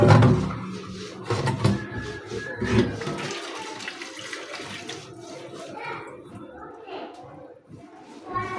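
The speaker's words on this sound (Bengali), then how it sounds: "আলুগুলো ধুয়ে নিলাম, ধোয়া হয়ে গেছে।" New potatoes being washed in water in a home kitchen before cooking with meat, splashing and sloshing strongest at the start and then softer, with someone talking over it.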